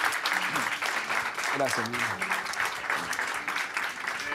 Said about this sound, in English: Give him a clap of praise.